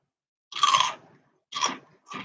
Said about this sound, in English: Got some good crunch.